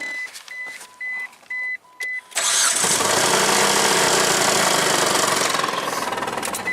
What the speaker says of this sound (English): That's crank pulley hitting on side frame.